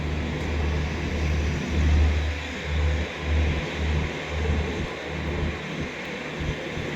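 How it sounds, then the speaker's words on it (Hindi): A special train on the Prayagraj–Delhi route overtakes on the line at the Ghaziabad outer, giving a steady, loud rolling rumble with a pulsing low throb and wind noise throughout. "एक स्पेशल ट्रेन और अपनी स्पेशल ट्रेन को ओवरटेक कर रही है"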